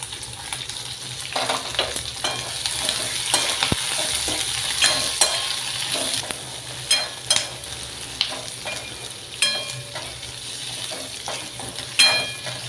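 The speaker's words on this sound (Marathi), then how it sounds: "कांदे टाकून घेऊ. हे सगळं साहित्य चांगलं लाल होईपर्यंत परतून घेऊ." Onions and spices sizzle steadily as they sauté in a pan for a home-style shahi mutton masala, while a spoon stirs and scrapes against the metal in repeated sharp clinks, with no talk.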